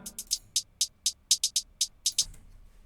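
EQ-processed hi-hat sample repeating alone in a steady pattern of bright, sharp ticks with a brief roll near the end, close and clear with no voices.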